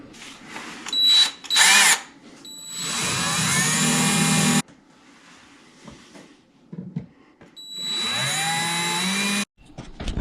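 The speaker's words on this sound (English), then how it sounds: "we'll install the screws" A power drill drives screws to mount a fallen sink to a wall: several close, loud whirring bursts rise in pitch as they run, the longer runs lasting a couple of seconds each, separated by quiet pauses and handling clicks.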